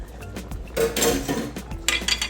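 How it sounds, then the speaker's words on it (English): A spoon stirs and scrapes around a metal pot of cooking beans, giving close clinks and knocks against the pot in an uneven rhythm, with no talking. "I want to give it a mix and make sure that my flavors are good"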